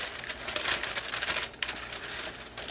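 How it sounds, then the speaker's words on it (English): A silicone brush spreads butter across parchment paper while preparing Salvadoran marquesote sweetbread, making a steady, close, soft crinkly swishing with brief pauses and no talking. "I have a silicone brush, and I'm brushing some butter"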